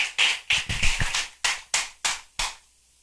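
A few people in a church congregation clapping in a short, uneven burst of separate claps, close and fairly loud, that slows to isolated strokes and then stops.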